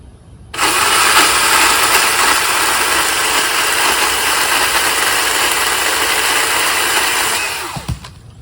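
A Milwaukee cordless pole saw cutting through a tree branch about four inches thick, a loud steady whine that starts sharply, holds for about seven seconds, then winds down with a small crack at the end.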